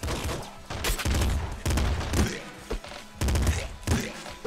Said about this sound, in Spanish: Rifle de asalto, ole.